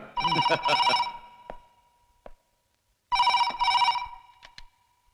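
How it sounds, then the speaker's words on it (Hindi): An electronic telephone ringing in two loud trilling bursts separated by a pause, each followed by a few short clicks, with no voices. "जरा देख तो बब्बर, किसका फोन है? अपने दोस्त का या किसी दुश्मन का?"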